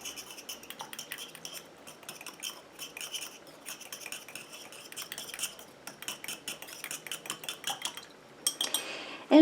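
A utensil stirring a homemade hyaluronic acid anti-aging eye gel in a small container, quick repeated clinks and scrapes, close and fairly faint, with a louder knock at the end.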